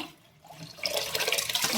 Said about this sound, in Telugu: ఇప్పుడు బియ్యం నీళ్ళు వేసేస్తాను